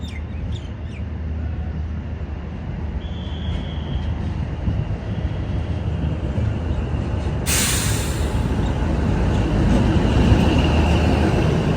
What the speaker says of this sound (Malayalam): ഇതാ ബനിഹാളിലേക്ക് ഈ ട്രെയിൻ ഇതാ വരികയാണ്